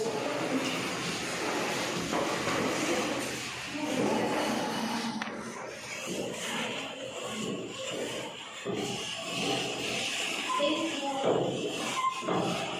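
Chairs scrape, thump and shuffle across a classroom floor as they are rearranged, with voices talking throughout.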